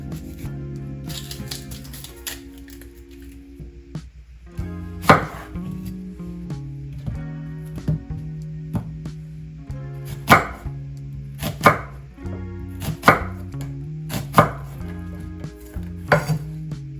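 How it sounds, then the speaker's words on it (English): An onion chopped with a knife on a cutting board: sharp, irregular knocks, sparse at first, then a quicker run of cuts in bursts. "Last but not least, onion. Take off the end."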